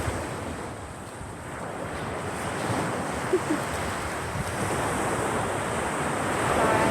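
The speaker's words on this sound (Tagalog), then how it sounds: "yung alon at saka dagat. Hangin at dagat." Steady surf rolling in with a constant wash of wind buffeting the microphone, no voices, a broad continuous roar that swells slightly toward the end.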